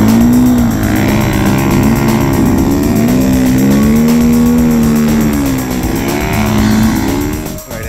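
A snow bike's engine roars loud and steady throughout, its pitch rising and falling with throttle as the rider revs through the run, no talking.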